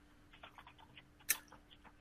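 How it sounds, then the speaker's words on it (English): Keyboard typing from an unmuted participant picked up faintly during an online technical Q&A session, a scattering of soft clicks with one sharper keystroke, quiet and distant. "I can actually hear typing going on here"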